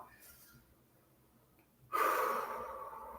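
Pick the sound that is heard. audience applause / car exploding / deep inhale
deep inhale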